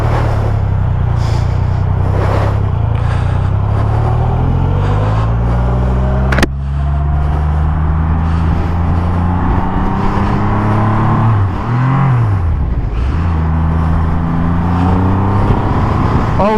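A 2021 Triumph Rocket 3 GT motorcycle engine pulls hard and loud at close range, its pitch climbing through steady acceleration, then dipping briefly before rising again, with no voices over it.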